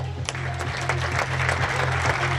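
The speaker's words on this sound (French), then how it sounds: "on peut les applaudir" Lively applause from a table tennis match audience, dense clapping over a low steady hum, continuing throughout without talk.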